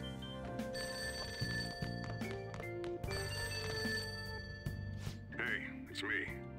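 An old-style telephone bell rings repeatedly in Persona 5 Royal, coming from downstairs, with steady repeated bursts of ringing over game music and a couple of brief louder effects near the end.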